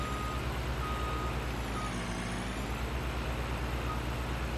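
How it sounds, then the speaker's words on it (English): Regular high-pitched reversing beeps from a truck in Farming Simulator 19 repeat over a loud, steady engine rumble, synthetic-sounding and continuous with no voices. "reverse sounds when you're backing up, the reverse beeps there."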